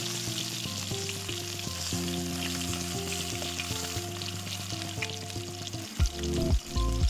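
Pangas fish pieces frying in oil over a clay wood-fired stove, a continuous crackling sizzle under a background hum, with a few louder spattering bursts near the end.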